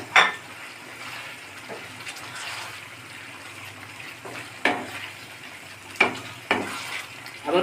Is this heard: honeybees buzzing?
no